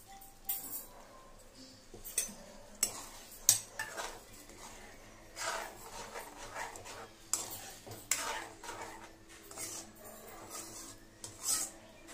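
Methi chaman gravy is stirred in a pan, with a spoon scraping and clinking against the metal in irregular bursts and quiet gaps between strokes.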